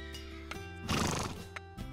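A cartoon horse lets out a single close, loud whinny in the middle of a short stretch, with a few soft hoof-like taps before and after, set at a winter stable where a farrier shoes the horses.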